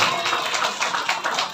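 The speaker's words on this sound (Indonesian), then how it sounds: "Tepuk tangan buat anak-anak santri Al-Ikhlas" An audience at an Isra Mi'raj religious sermon clapping for santri children, a quick, dense patter of hands that stays fairly even across the short burst.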